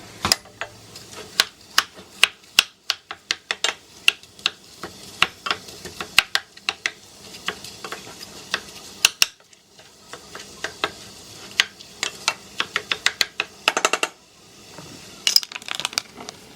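Ground turkey is mashed and spread in a hot pan with a wooden spatula, giving rapid irregular wooden taps and scrapes over a soft sizzle, close up and without speech.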